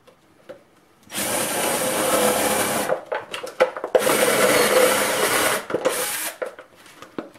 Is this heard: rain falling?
no